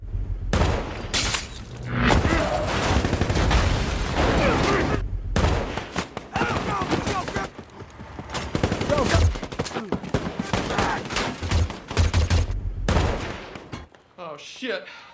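Heavy gunfire from a Dragunov sniper rifle aimed at a convoy in a war film scene, loud sustained bursts and booming volleys filling most of the stretch, briefly broken by short pauses before fading out.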